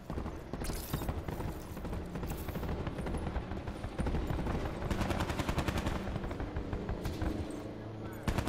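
Rapid bursts of automatic gunfire in Call of Duty: Black Ops 4, fairly close and persistent, mixed with footsteps and game sounds, with players talking over the action.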